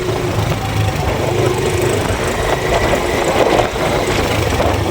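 A vehicle engine runs steadily in third gear after its transmission was repaired, a loud continuous low rumble close by with no grinding, no talk over it.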